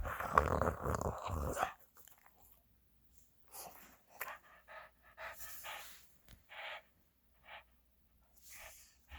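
Dogs pant in quick, breathy bursts close by, with a snort and a low growl between pauses and no talking.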